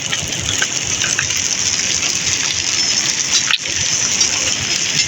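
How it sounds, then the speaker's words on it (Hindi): Rain and hail coming down hard in Pakistan, a dense steady roar of drops and pelting ice on surfaces, loud and continuous with a brief dip partway through, no voices. "गाइस बारिश स्टार्ट हो गई है, गड़ा काफ़ी पड़ा है।"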